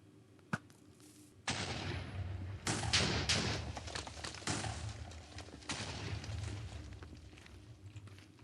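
TNT blasts in Minecraft: a sharp pop, then a string of loud, rumbling explosions in quick succession, each burst decaying into the next over several seconds.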